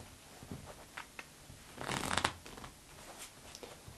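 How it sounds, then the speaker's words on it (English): A deck of playing cards riffles in a quick, papery flutter, with scattered taps and soft handling clicks before and after. The sound is close and fairly quiet, and no one speaks. "I'm going to do it in 3 shuffles"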